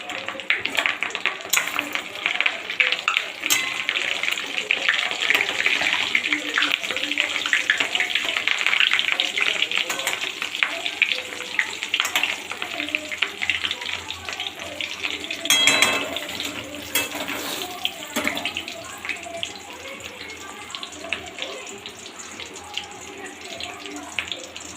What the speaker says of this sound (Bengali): এবার আমি বড়াগুলো ছেড়ে দেবো। আর এদিকে ডিমের বড়া ছেড়ে দিয়েছি।